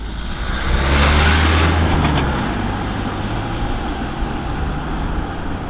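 A Kia Sorento SUV driving on an Irish road, a loud steady roar of engine and tyre noise from inside or near the moving car, constant throughout with no talking.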